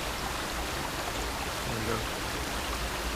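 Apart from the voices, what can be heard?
waterfall on Vancouver Island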